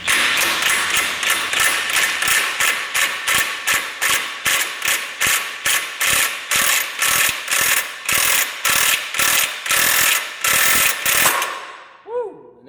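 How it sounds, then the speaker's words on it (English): A socket ratchet drives a clutch puller tool to remove a clutch from an off-road side-by-side, its rapid metallic clicking running in steady strokes for about eleven seconds, close and loud, then stopping abruptly into quiet. "find a socket that will fit on top of your clutch puller tool. And drive this thing home"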